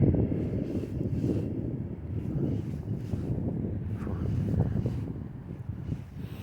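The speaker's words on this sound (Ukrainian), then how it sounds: "Вітер дує в морду." Steady low wind rumble buffets the microphone outdoors while pike fishing in December, a continuous blustery roar with no voices, rising and falling slightly in strength.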